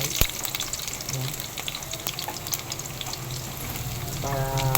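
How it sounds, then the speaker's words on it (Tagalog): Onions sauté in hot cooking oil for a Filipino squid dish, a close, steady crackling sizzle with occasional spatters and stirring, ending with a brief clink. "So, tayo po ay magigisa na. At unahin natin ang ating sibuyas guys."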